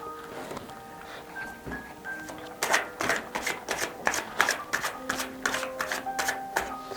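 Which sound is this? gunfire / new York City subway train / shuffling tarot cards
shuffling tarot cards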